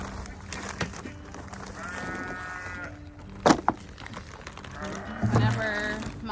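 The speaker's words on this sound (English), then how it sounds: "Whenever my sheep hear me out here, they always start making a big fuss." Sheep on a farm beside a greenhouse bleat in two clear, drawn-out calls, close by, over faint background noise and a few sharp knocks.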